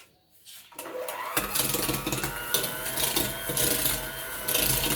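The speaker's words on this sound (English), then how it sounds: "margarine or butter and sugar, making use of a stand mixer." A stand mixer creams margarine or butter with sugar for a vanilla cake. Its motor starts up after a brief quiet moment and then runs in a steady, close, droning whir with a rhythmic beater churn.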